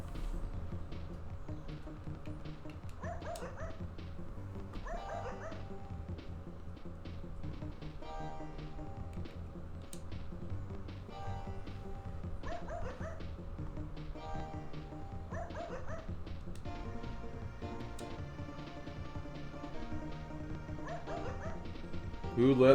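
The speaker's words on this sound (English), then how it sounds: "Attila the Hun reborn as a dog" Game Boy Advance Paws and Claws: Pet Vet plays a dog barking in short repeated yips over a steady, quiet game soundtrack, with no talking.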